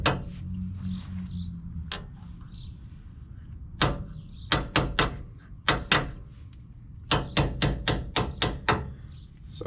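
Sharp metallic hammer taps drive a wheel bearing into place on a 2002 GMC Sierra 1500, close and ringing, first a few spaced strikes, then quick clustered runs of blows.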